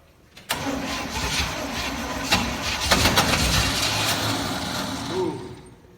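A 1969 Chevy 327 engine cranks on its starter after sitting for 40 years. There is a sharp click, then several seconds of rough, churning cranking with uneven bursts, before it stops.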